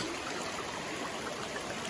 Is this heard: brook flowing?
yes